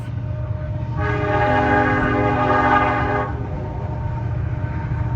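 CN grain train G874, led by an SD70M2 locomotive, blasts a loud sustained horn chord for about two seconds as it passes, over a steady rumble of rolling rail cars.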